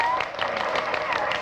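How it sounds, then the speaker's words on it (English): A crowd at a parade in an old radio drama keeps up a dense, steady murmur with scattered claps, close and continuous, with voices mixed into the hubbub. "The crowd's murmuring now."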